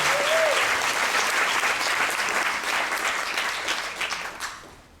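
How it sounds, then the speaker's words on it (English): An audience applauds the Jagani family at a Kathak dance recital, a loud, sustained round of clapping from a large crowd that gradually fades over about five seconds. "let's give the Jagani family a big round of applause"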